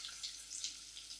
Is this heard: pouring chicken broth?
yes